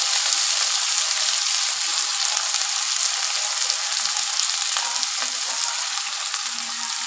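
Onions with red tomato and green chillies fry in a pan for lentil dal, a steady close sizzle with faint stirring scrapes running throughout and no talk.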